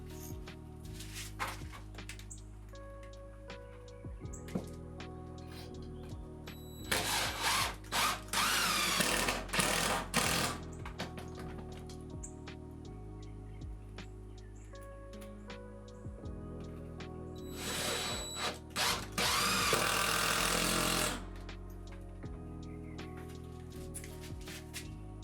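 Power driver sinking 3-inch screws through a 2x4 into wall studs to hold an under-sink water heater mount, two sustained loud whirring bursts with lighter tool noise between them.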